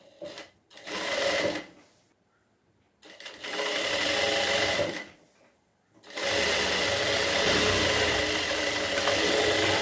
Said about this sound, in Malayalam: ആ മെയിൻ ക്ലോത്തിൽ മാത്രം നമ്മൾ സ്റ്റിച്ച് ചെയ്തെടുക്കണം